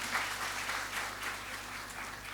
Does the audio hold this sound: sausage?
no